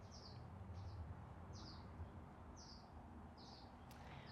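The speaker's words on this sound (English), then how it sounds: "Hear the birds chirping." Faint birds chirp outdoors beside a ranch home in Backcountry, Highlands Ranch, Colorado, giving about five short, evenly spaced calls over a low background hum.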